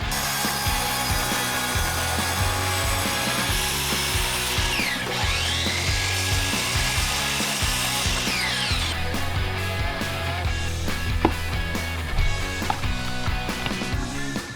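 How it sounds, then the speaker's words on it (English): Wooden boards are sawn into slices for cabinets, a loud, continuous power-saw whine with rhythmic cutting pulses and mechanical clatter, close up and with no talk. "Once you cut a board into a bunch of little slices"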